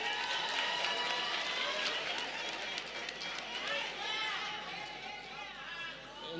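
Applause from the audience at a 2024 Lovedale TVET College graduation ceremony, a steady dense wash of clapping and cheering mixed with crowd chatter that runs throughout without letting up.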